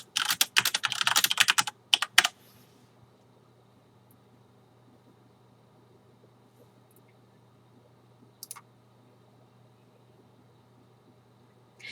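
Close computer keyboard typing in a quick burst of clustered key clicks for about two seconds, followed by near silence with a couple of isolated faint clicks.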